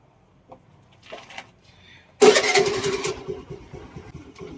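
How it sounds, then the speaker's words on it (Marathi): A motorbike engine catches after a few faint clicks and rustles, then settles into a loud, close, steady idle rumble that carries through to the end, with no talking. "तर मी आता गाडीवर बसतोय आणि आता सुरू करतलंय गाडी"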